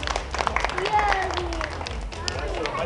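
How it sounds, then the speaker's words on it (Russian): An audience claps through a Tesla coil show, a steady patter of applause with crowd murmur and a voice talking over it. "Аплодисменты."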